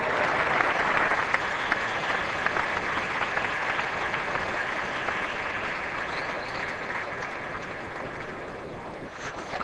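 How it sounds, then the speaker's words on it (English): A test match cricket crowd at Sydney applauds a fine on drive, a steady, broad wash of clapping that sounds fairly distant and continues evenly without commentary over it. "Gore, stand up and applaud"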